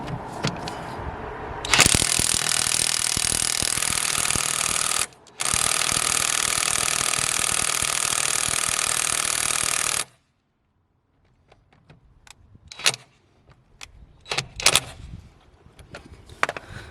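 A cordless Parkside impact wrench hammers loudly and continuously for about eight seconds with one brief stop, then cuts out, leaving scattered clinks and rattles of the socket and bolt.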